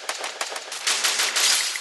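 M60 machine gun fire in Garena Free Fire: a few spaced single shots, then a dense sustained burst of rapid rounds, loud and close, with no talking.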